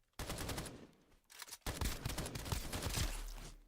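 Automatic gunfire rattles in Escape from Duckov, with two bursts of rapid shots split by a short pause and the second burst running longer, loud and up close, with no talking.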